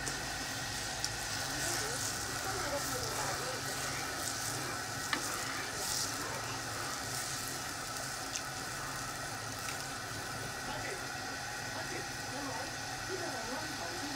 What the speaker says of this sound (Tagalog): Pakuluan na natin guys yung ating gata